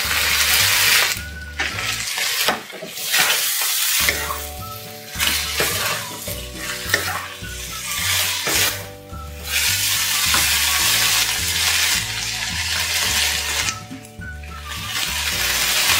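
Chicken stir-fried with sweet bell peppers and seasoned with oyster sauce in a hot pan, with a loud, continuous sizzle and repeated scraping stirs that come close, with no speech.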